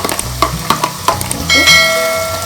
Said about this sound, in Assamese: এইখিনি বিলাহীখিনি এতিয়া মই ভালকৈ ভাজিম